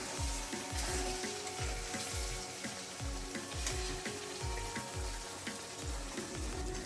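Spice masala fries in a pan for a Bengali chicken jhal curry, a continuous close sizzle under a steady rhythm of scraping spatula strokes against the pan, about two per second, with no talking.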